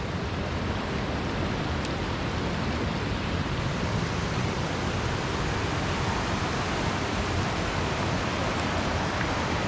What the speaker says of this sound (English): Just loads of little waterfalls the whole way down here.